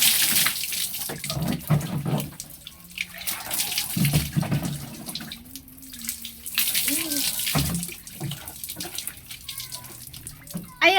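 Water runs from a tap in a steady, broad hiss, and splashes and a person's voice come and go over it as the flow carries on.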